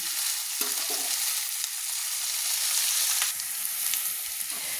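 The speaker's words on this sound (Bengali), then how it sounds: "পেঁয়াজটা আমার দেখুন হালকা হালকা লাল লাল করে ভাজা হয়ে গেছে" Onions sizzle steadily in a pan, frying until lightly browned for a spicy green bean and potato curry, with occasional soft scrapes of stirring and no voices.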